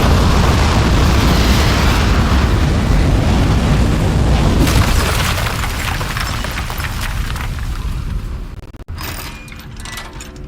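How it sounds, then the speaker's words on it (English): A rocket lifting off in the video game Aperture Desk Job, producing a loud sustained roaring rumble that fades slightly over several seconds, then a sharp cut into quieter mechanical clatter. "We have liftoff."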